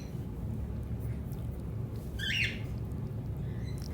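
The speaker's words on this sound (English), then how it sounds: "it's time for my birds to start chirping" Pet birds in a room give one short, bright squawk or chirp about halfway through, standing out briefly above a steady low background hum.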